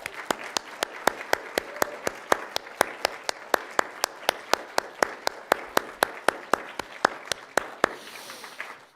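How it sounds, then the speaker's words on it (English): An audience at a state poetry recitation final applauds for the judges, prompter and score tabulator, with a sharp steady beat of claps lasting several seconds and then breaking off abruptly. "let's give them all a round of applause."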